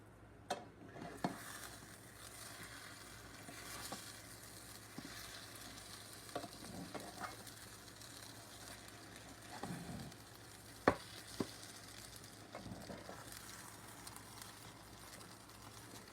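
Cinnamon French toast frying in a pan, with a continuous soft sizzle throughout and occasional light clicks and scrapes of a utensil against the pan.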